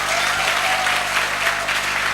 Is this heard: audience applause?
yes